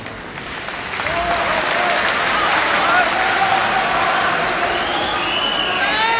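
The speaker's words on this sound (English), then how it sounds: "we must heed the advice given at the beginning that there should be no clapping for this" A debate audience breaks into loud, sustained applause mixed with some cheering, swelling after a second and holding steady throughout.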